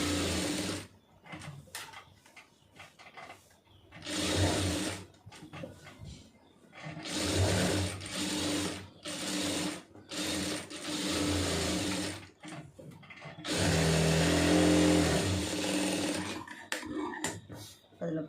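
Domestic sewing machine stitching cloth in bursts of fast, steady whirring runs, separated by pauses with quieter handling of fabric; close and fairly loud.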